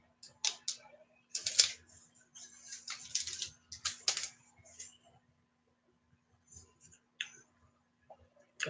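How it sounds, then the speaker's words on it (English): Keyboard typing as a code is entered, bursts of quick close keystrokes in irregular runs, with quiet gaps and a few isolated taps toward the end. "I will type the code and I will flash it on the camera."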